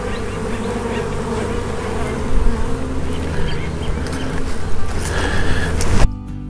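Dense, steady buzzing of many honey bees swarming close around a hive, loud and continuous, cutting off abruptly near the end.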